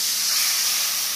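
Water poured into a pan of frying sweet tempe sends up a loud, steady steaming hiss that fills the short moment with no voices.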